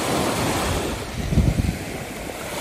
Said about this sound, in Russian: Волна, подходи.